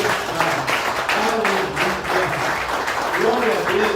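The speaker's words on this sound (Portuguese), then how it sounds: "Quem crê pode aplaudir." A church congregation applauds during a Portuguese-language sermon, a dense, sustained wash of clapping that carries on with voices and shouts of praise mixed in underneath.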